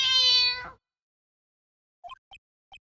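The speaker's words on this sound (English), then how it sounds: "It sounded like a cat." A cartoonish cat meow from the video game Ace Attorney Justice for All, one long bright harmonic cry that cuts off abruptly, followed after a pause by a few short faint chirping blips.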